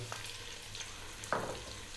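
Onion and potato frying in sunflower oil in a large pot, a soft steady sizzle with a sharper burst of crackle as ingredients hit the hot oil partway through, close and without talk.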